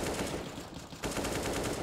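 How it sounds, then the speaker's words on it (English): AK rifle fire in a Counter-Strike match, a quick burst of rapid gunshots with a short lull before a second run of shots resumes, loud and close. "He gets a quad kill as well with that AK."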